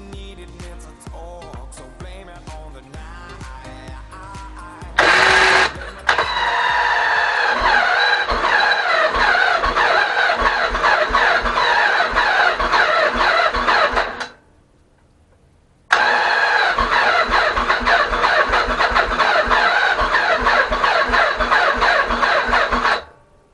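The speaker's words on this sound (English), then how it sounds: "These wires jumpstart the engine." A 1984 Yamaha Virago 1000 motorcycle engine cranks during a compression test, turning over steadily at a fast mechanical rhythm, pausing briefly before resuming, loud and close.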